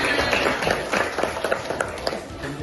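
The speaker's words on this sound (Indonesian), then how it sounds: "beri tepuk tangan dulu dong kepada teman-temannya" Applause from a school audience for participants at an event on preventing grooming, a dense patter of many hands clapping steadily throughout with a few louder claps standing out.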